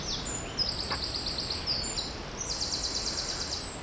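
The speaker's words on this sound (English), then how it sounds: "Listen to them birds." High, thin bird chirps repeating a few times over a steady outdoor hiss of background noise.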